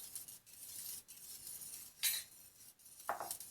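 Whisk clinking against a pot of tripe soup as an egg-flour liaison is stirred in, quiet rhythmic metallic scraping punctuated by a few brighter clinks.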